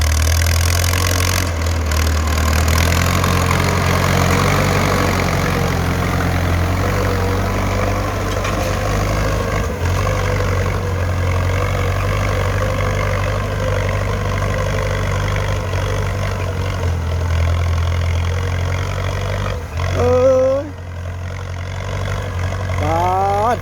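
A Ford 6600 tractor engine runs steadily at a low rumble throughout while ploughing a weedy rice field, with a few faint squeaks near the end.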